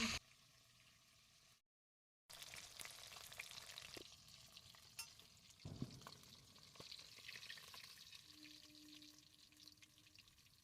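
Sholmach (snakehead) fish pieces deep-fry in plenty of hot oil, crackling and sizzling steadily at close range after a short silent gap, with a few sharper pops and light stirring.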